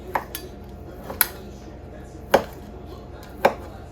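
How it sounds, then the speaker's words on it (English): Sharp knife chops through cooked chicken on a cutting board, four or five spaced strikes over a quiet room background. "So I'm just cutting this into chunks"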